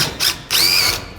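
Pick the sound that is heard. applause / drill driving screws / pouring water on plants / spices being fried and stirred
drill driving screws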